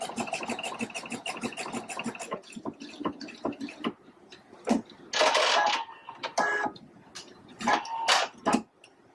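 A Pfaff Quilt Expression 720 sewing machine stitches a zigzag stitch, giving a fast, even mechanical ticking that runs steadily at first, then gives way to louder, irregular clicks and bursts near the microphone.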